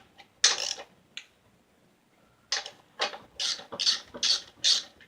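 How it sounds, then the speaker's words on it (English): A speed wrench is spun by hand to back out half-inch bolts on a TH350 transmission, giving close, bursty ratcheting scrapes in short clusters with quiet gaps between them, and no voices. "This is when it makes it nice to have a speed wrench."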